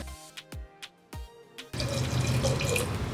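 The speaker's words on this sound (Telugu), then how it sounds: "కాస్తంత వాటర్ పప్పు మునిగేంత వరకు వాటర్ వేసుకొని" A few separate drips and splashes come first, then a steady stream of water pours into a cooking pot of lentils seasoned with chili powder for a cucumber dal, continuing loud and close.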